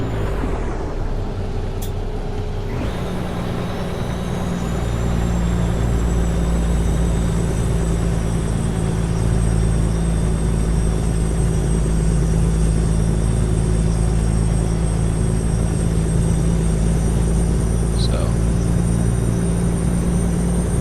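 A truck engine droning loud and steady from inside the cab while driving slowly, with a deep rumble, a shift in pitch early on as gears change, and a thin whine above.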